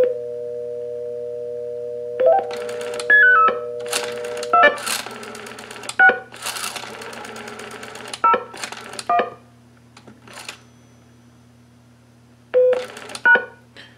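A pulse dial to DTMF converter in blue box mode sends a loud, close run of telephone dialing tones, with short beeping tone pairs in bursts between gaps, over a steady hum, and nobody talks.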